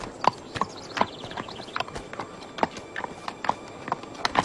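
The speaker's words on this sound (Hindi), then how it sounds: "ये घोड़ा आपका है" Hooves of a single horse clip-clop in a steady, uneven walking rhythm, moderately near, with faint background ambience and no speech.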